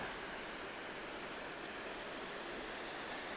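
A large waterfall in Sequoia National Park roars as a constant, dense wash of falling water, loud and unbroken throughout with no voices.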